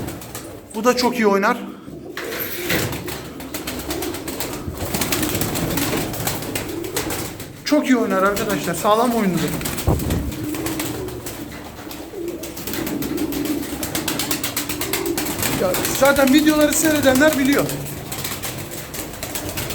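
Tumbler pigeons in a loft coo in repeated throaty bursts, some close and fairly loud, while someone talks throughout.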